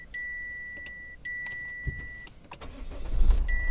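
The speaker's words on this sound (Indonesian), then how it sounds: "Mari kita nyalakan dulu mesinnya." A steady electronic chime beeps inside a 2017 Chevrolet Captiva LTZ diesel, then the engine cranks and catches, ending in a low, rising idle rumble.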